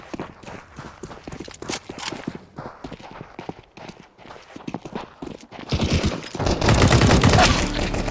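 Rapid bursts of gunfire in Counter-Strike 2 on the Dust 2 map, sharp repeated shots at first, then a dense, loud stretch of sustained fire near the end, with no talk.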